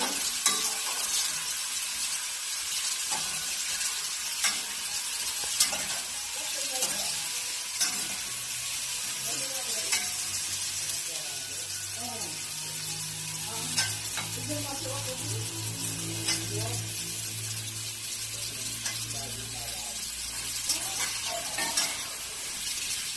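Food frying in a pan sizzles steadily while being stirred, with scraping and occasional utensil clinks against the pan, close and continuous, and a low voice murmurs in the background.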